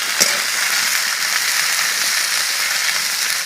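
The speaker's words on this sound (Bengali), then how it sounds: "এবার আমি দিয়ে দিচ্ছি আলু বিনস আমি একসাথে নাড়াচাড়া করে নেব।" Potatoes and green beans frying and being stirred in a hot pan for a Bengali vegetarian dish, a steady bright sizzle with a brief scrape near the start, close and continuous.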